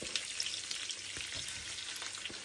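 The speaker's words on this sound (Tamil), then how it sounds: "வெங்காயத்தையும் கருவேப்பிலையும் போட்டு நல்லா வதக்குவேன்." Onions and curry leaves frying in hot oil in a pan, giving a steady, close crackling sizzle that runs throughout with small pops and no talking.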